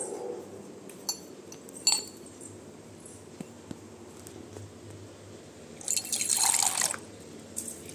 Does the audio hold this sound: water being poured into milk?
yes